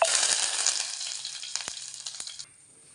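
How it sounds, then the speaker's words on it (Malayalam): Mustard seeds splutter in hot oil for a ginger-yogurt tempering, a bright crackling hiss with a few sharper pops near the end before it cuts off abruptly, close and loud. "കടുക് ഒന്ന് പൊട്ടി വരട്ടെ"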